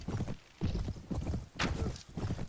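Horse galloping and neighing in the video game Mount & Blade, a quick run of rhythmic hoofbeats with a short bright whinny in the middle, fairly faint.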